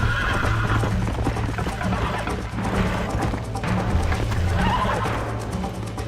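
Horse in the video game Red Dead Redemption on Xbox Series, whinnying loudly and close, with clip-clopping hooves running under it against a steady game background.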